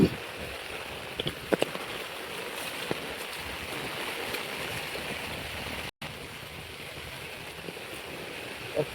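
Rainwater flowing across flooded paddy fields in the Sahyadri hills during monsoon rain, a steady broadband rush and patter throughout with a few brief knocks.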